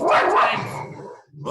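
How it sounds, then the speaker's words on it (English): A dog barks loudly nearby in a short burst indoors, with a voice heard briefly over it. "Sorry, that's my dog."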